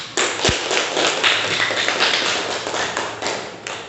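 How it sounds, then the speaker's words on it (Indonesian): A classroom of students applauding together, a dense burst of many hands clapping that runs steadily for several seconds before tapering slightly, with a single low thump near the start. "tepuk tangan"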